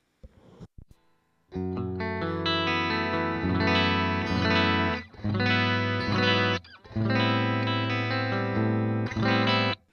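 Clean electric guitar tone played through an A-Killertone Trench Coat Driver pedal, with ringing sustained chords in several phrases and brief breaks between them, loud and alone.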